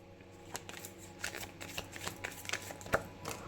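Tarot cards shuffled close by, a quiet run of soft riffling and patting slaps with irregular rhythm and one sharper snap of cards near the end.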